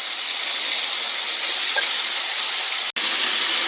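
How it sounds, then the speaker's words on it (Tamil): Washed potatoes dropped into hot oil with spluttering mustard seeds and cumin, frying with a loud, steady sizzle and hiss that cuts out for a moment and then carries on. "இப்போ இதில் வாஷ் பண்ணி வச்சுருக்க உருளைக்கிழங்க போட்டுடுறேன்."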